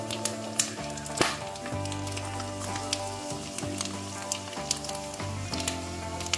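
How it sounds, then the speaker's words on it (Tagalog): Pork sautéing with garlic, ginger and onion for binagoongan gives a steady close sizzle, broken by occasional clinks and stirring scrapes in the pan, with no speech. "sinasangkot sa muna yung pork para hindi masunog yung sibuyas, luya at saka bawang."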